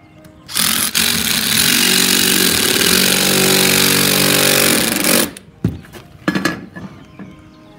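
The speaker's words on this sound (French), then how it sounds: "Je présente ma console, je mets la vis, clé choc." An impact wrench drives a screw into a metal bracket on a coping support, one loud continuous burst of rapid hammering for several seconds, then a few short knocks and handling clatter.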